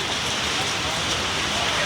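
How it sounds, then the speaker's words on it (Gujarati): Heavy downpour in Surat drums steadily and loudly on surfaces, a dense, continuous hiss with no breaks and no voices. "ધોધમાર વરસાદમાં પાછા અમે ચા પીવા આવ્યા છીએ"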